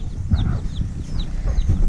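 Several chickens cluck softly at a distance over low rumbling background noise, with short scattered calls.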